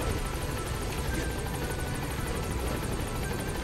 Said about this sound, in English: We're gonna jump into the chopper.